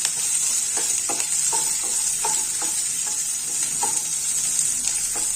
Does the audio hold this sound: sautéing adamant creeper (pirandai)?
yes